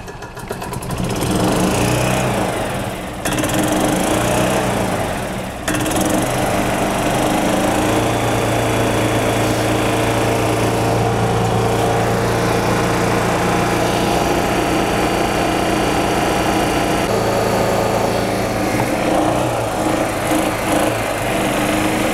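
A gas 1993 Club Car DS golf cart engine revs hard and bounces off its rev limiter, a loud, steady, buzzing small-engine drone heard up close, with brief dips in pitch as it cuts out.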